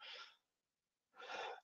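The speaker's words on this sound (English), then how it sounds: "oh my God, that sneeze again" A person sneezes twice: a sharp breathy burst, a short silence, then a second fuller sneeze, close and alone.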